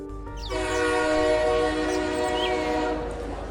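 A train pulling into a station, its horn sounding in long sustained tones over a low rumble of rolling cars, loud and fairly close, without speech.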